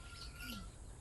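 Caged forest birds eating sunflower seeds in an aviary at Malagasang, Imus, Cavite, giving a few faint, brief chirps over a quiet background.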